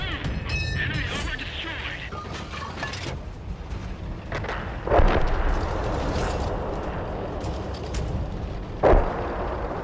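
Tank gun shots in the console version of World of Tanks, on the Mannheim map, two heavy booming blasts landing about four seconds apart over a constant rumble of engines and battle noise.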